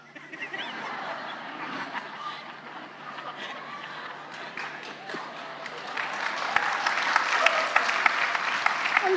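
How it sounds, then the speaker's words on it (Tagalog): Audience of mothers and spouses clapping loudly at a lively gathering, a crowded patter that builds and grows stronger toward the end, mixed with chatter and laughter. "Ang lakas ng palakpak ng asawa eh."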